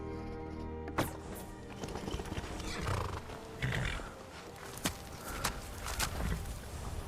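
Horse hooves clip-clop in Skyrim, with irregular soft thuds over an ambient game background and a brief neigh-like sound near the start, all fairly quiet.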